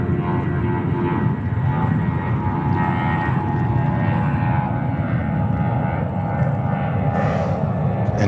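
A JetBlue Airbus A320 at New York JFK gives a strong, continuous jet engine roar with a shifting whine layered on top, heard steadily nearby with no voices.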